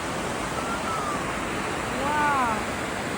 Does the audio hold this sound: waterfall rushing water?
yes